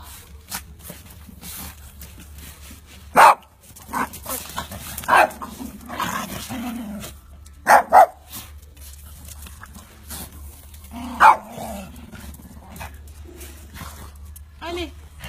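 A small dog barks in a few short, sharp yelps spread over time, with a soft French-speaking voice talking gently to it in between and quiet footsteps around.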